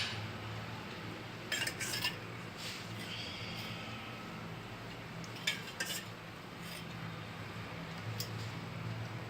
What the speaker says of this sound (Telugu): ఇప్పుడు స్టవ్ మీద ప్యాన్ పెట్టుకోవాలి